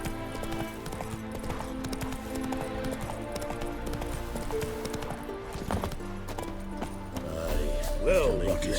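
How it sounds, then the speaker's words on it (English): Horse hooves clip-clopping at a gallop in The Witcher 3 game on PC, rapid steady beats under game music with a neigh toward the end and a voice speaking over it. "Run away! Run, Roach."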